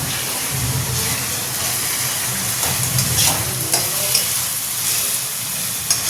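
Spices with chili powder and turmeric fry in a pan, a loud, steady close sizzle and hiss with occasional scraping stirs, and no voices heard.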